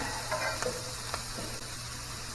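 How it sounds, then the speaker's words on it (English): Jalapenos and corn sizzle in a pan with bacon, a steady soft frying hiss with faint stirring scrapes and no talk. "We'll get all this kind of sauteed up a little bit."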